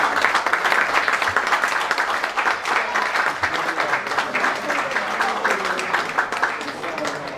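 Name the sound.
audience applause for the athletes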